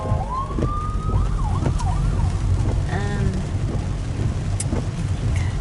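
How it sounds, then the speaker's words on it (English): A wailing ambulance siren approaching from behind a car sweeps up and down over steady traffic rumble, moderately close, with brief chirps and whoops mixed in. "Got an ambulance behind us."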